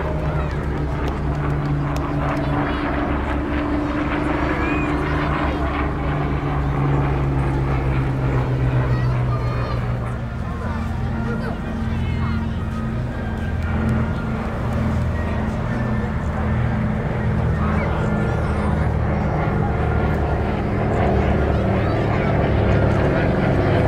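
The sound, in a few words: aircraft flying a display at Bournemouth Air Festival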